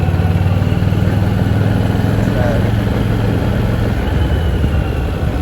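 Harley-Davidson Street XG750 motorcycle being ridden on island roads, with a loud, steady close-up engine drone and rushing wind. A voice talks over the engine throughout.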